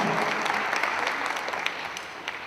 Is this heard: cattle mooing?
no